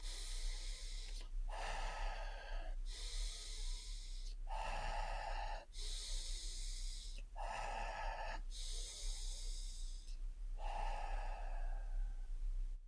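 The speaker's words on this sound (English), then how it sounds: "Breathing together. Even just take a breath with me now." A group breathes together in unison, slow deep breaths in long, airy, hissing swells, each about a second long with short pauses between, repeated six times at a moderate level.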